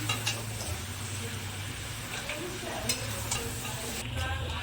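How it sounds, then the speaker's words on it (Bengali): Mutton scraped and spooned from a wok into a pressure cooker, with a soft continuous sizzle underneath and occasional light metallic scrapes and clinks, close but quiet. "এইভাবে আমি কড়াই থেকে মাংসটা প্রেসারে দিয়ে দিচ্ছি"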